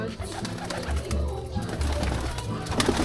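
Low, soft pigeon coos repeat beneath a murmur of nearby voices and background bustle.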